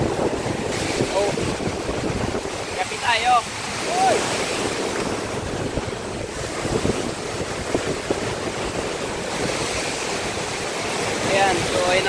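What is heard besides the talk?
big ocean waves and wind at the shore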